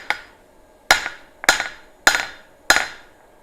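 Five heavy hammer blows strike hot metal at a forge, spaced roughly every half second to second, each a sharp ringing impact that decays quickly, close and loud with no talk.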